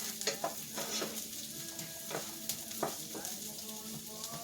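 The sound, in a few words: onions sautéing in a pan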